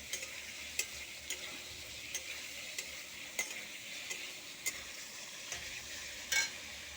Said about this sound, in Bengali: এবারে আলু পটলটা দিয়ে দেবো, দিয়ে ওটাকে ভালো করে নাড়াচাড়া করবো।